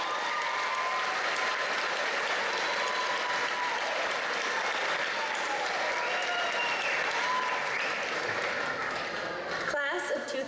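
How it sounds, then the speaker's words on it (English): Applause from a graduation ceremony audience, steady and sustained across the hall, ending abruptly near the close with a brief break before a voice resumes. "And I guess this would be the time where we applaud and thanks."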